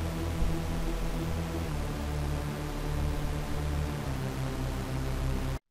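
A dry Reese bass synth with portamento and no effects plays a thick, buzzing, detuned low drone that sweeps steadily between pitches for several seconds, then cuts off abruptly.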